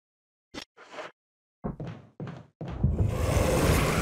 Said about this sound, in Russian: А там еще дверь что-то хрустнула